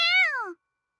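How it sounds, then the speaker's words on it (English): A small black kitten in a visual-novel game gives one sweet, clear meow that rises and then falls, lasting about half a second and heard alone before silence. "The transceiver cat meows sweetly in reply."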